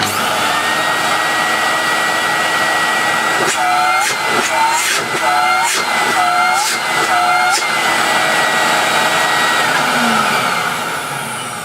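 An Electrolux Z2000 vacuum cleaner runs loud and close with a steady motor whine and rushing airflow, broken midway by a series of short pitch dips before settling back to a constant roar.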